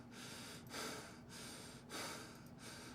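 Heavy breaths drawn and released in a slow, steady rhythm, two loud swells of air rising over a constant low hum.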